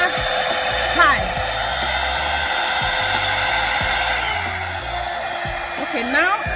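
A Revlon Salon One-Step hair dryer and styler runs on its high setting with a continuous loud whooshing blow close by. Faint background music or other noise sits under it, with no clear talk.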